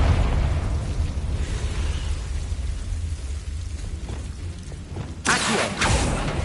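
A Confringo spell bursting in Hogwarts Legacy, a rumbling fiery explosion with a rolling low roar that fades, then a sharp second blast near the end, with no one talking.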